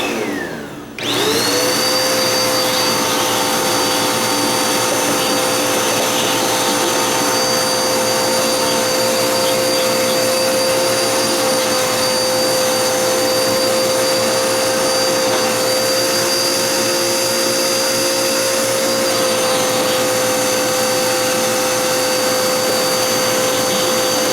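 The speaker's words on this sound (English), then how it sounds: "I've already vacuumed these out once, but now, because we've got the new carpet install, I want to clean all that stuff out of there now." A vacuum cleaner runs steadily and loudly, cleaning dust out of floor edges before new carpet is installed, with a constant high whine and no talk.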